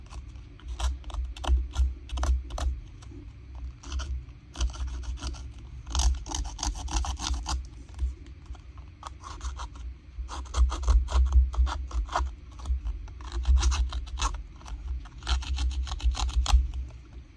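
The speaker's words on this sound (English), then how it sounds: "I do want to distress the corners of that a little bit. So I've got my distressing tool." Repeated scraping and rasping strokes of a distressing tool against paper corners in a junk journal, in quick bursts with short pauses, close and fairly steady throughout.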